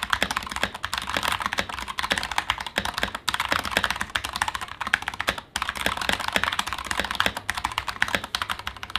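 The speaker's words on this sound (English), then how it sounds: "it's otherwise a very pleasant keyboard to use" Fast, continuous typing on a Bluetooth computer keyboard, with dense rapid key clicks at close range and only brief pauses, heard alone without voices.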